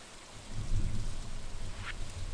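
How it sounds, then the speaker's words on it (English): Soft, steady rainfall patters in the farming game Stardew Valley, a continuous low hiss of rain that swells slightly and keeps going without talk. "Fishing, it's raining!"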